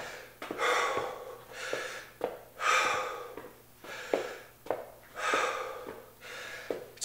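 Heavy, deep breathing during a short rest break in an intense cardio workout: repeated loud gasping inhales and exhales in a steady rhythm, each breath rough and close, with no talking.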